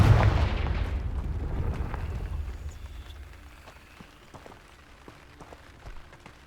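The Confringo fire spell explodes in the video game Hogwarts Legacy with a loud booming blast. A crackling rumble follows and fades over several seconds into quieter scattered pops and debris.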